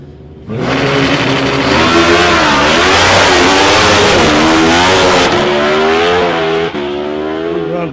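A drag racing bike roars down the straight at South Coast Raceway, its engine screaming loud and close through a continuous hard acceleration with rising pitch across the gears, with no talking.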